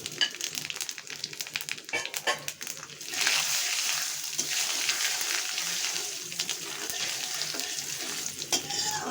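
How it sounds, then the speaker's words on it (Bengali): Whole spices such as cinnamon, cardamom, bay leaf, dried chilli and five-spice seeds frying in hot oil for tempering a mixed vegetable dish, a steady close sizzle that swells louder partway through with light stirring scrapes, no talk. "প্রথমে দিয়ে দিচ্ছি দারচিনি, এলাচ, তেজপাতা, শুকনো মরিচও দিয়ে দিয়েছি এবং 5 ফোড়ন দিয়ে দিচ্ছি।"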